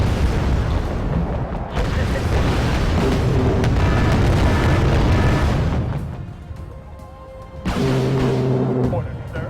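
Rocket artillery in Wargame Red Dragon, set in a Second Korean War campaign, launching salvos and missiles: loud rumbling booms and roaring launches that swell and fade, with voices talking over them.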